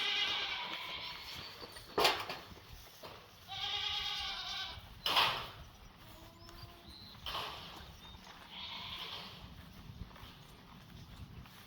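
Goats bleat repeatedly at a moderate distance, several overlapping calls, with a couple of sharp knocks and rustling in between.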